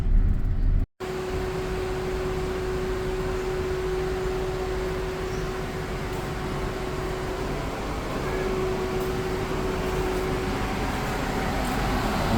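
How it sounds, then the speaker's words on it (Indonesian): Electric radiator cooling fan on a Suzuki Katana running steadily with the engine idling and the AC off, a loud continuous whoosh with a faint steady hum, broken by one brief dropout near the start. "Ini suara electric fan."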